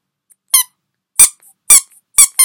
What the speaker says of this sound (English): It goes squeak, squeak, squeak.